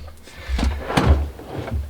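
A cutlery drawer slides open with a few wooden thumps and rattles, close and fairly loud, over a short stretch.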